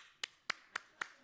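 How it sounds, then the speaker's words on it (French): Four faint, evenly spaced hand claps in a conference hall, sharp and isolated, without talk. "On les applaudit."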